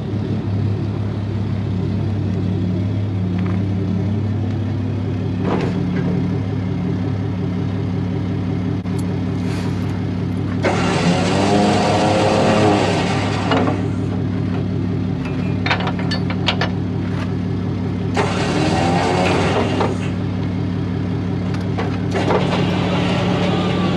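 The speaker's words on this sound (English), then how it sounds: "Got the trailer ready just to back up into that dumpster." A Ram 2500 Cummins diesel pickup idles and rumbles steadily while backing a trailer up to a dumpster, a loud low drone with bursts of harsher engine noise and occasional knocks.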